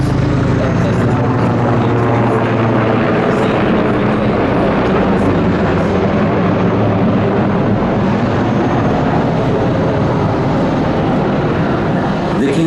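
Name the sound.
Sikorsky CH-53K King Stallion helicopter flyby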